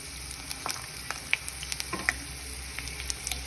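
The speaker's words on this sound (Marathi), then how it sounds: "शेंगदाणे छान तळल्या गेले मग याच्यामध्ये कांदा टाकायचा. हे बघा, शेंगदाणे छान फुटायला लागले" Peanuts fry in hot oil for a spinach bhaji, a steady close sizzle punctuated by scattered sharp pops and crackles, without speech.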